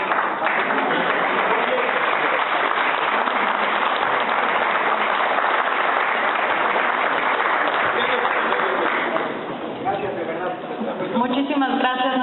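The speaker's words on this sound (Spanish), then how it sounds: "creo que es importante que todos les demos un fuerte aplauso" A large audience at a lecture applauds in a dense, sustained clatter of clapping that thins near the end as a voice starts speaking.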